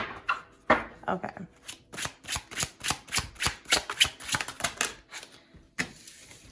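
Oracle cards are shuffled close up in a long, steady series of sharp, rhythmic snaps and riffles, roughly three or four per second, with a few pauses between bursts.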